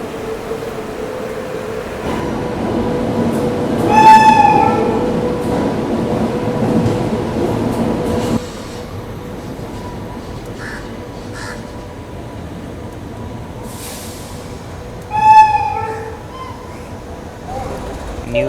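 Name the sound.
train hauled by WAP-4 electric locomotive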